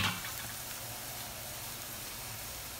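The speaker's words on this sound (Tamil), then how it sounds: "நல்லா டீப் ஃப்ரை பண்ண போகிறோம்" Cauliflower deep frying in hot oil, a steady soft hiss and fine crackle that stays faint and even throughout, with no talk.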